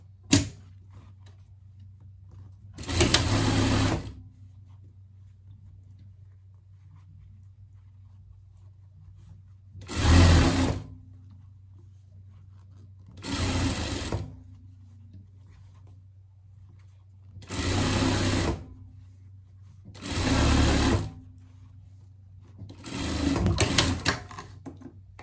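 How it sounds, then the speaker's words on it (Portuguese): Sewing machine stitching a pet hoodie, running in six short bursts of rapid mechanical whirring separated by pauses, close and clear with no talk. "a gente vai passar uma costura de segurança aqui"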